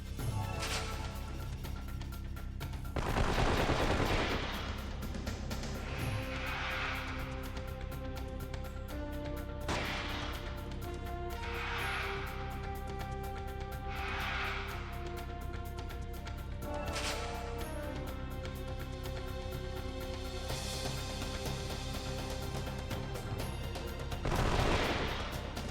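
Gunfire in a Red Dead Redemption or GTA V style video game, with scattered sharp shots and heavier bursts spread across a continuous bed of tonal game music and ambience.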